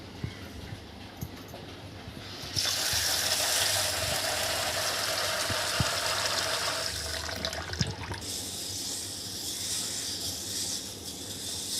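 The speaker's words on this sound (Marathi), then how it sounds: "आता हे आपल्याला स्वच्छ धुवून घ्यायचे" Mung beans are washed in water in a kitchen: after a quieter start with light clinks, water pours and rushes steadily for several seconds, eases briefly, then keeps splashing and swirling.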